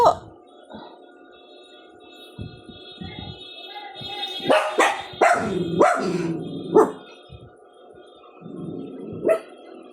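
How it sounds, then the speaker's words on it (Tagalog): Several pet dogs bark and yip repeatedly at close range as a parcel delivery arrives, with a burst of overlapping barking in the middle and a faint steady hum underneath. "Mga aso ko to guys, maingay lalo na pag may parcel ako darating"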